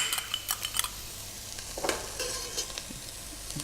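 Onion and basil frying in a pan, a soft continuous sizzle with intermittent stirring clinks and scrapes of a utensil against the pan, close and fairly quiet.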